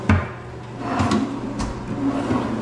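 A drawer behind a bar counter in a kitchen slides open and shut, with several sharp wooden knocks and thuds over a low sliding rumble, close by and moderately loud.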